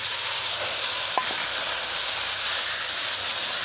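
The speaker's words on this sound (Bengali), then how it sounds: "শাকটা এখন দিয়ে দিই।" Cooked greens going into browned onions in a wok, a constant loud close sizzle and hiss of frying with one faint knock of a spoon, no voices.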